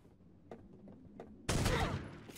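A sudden loud burst of gunfire in the Knives Out battle royale game follows a few faint soft clicks, then fades over about a second.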